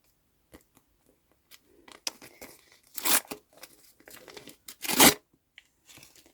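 A perforated paper surprise packet tears open in a few short bursts, with crinkling and rustling between them and two loud rips standing out.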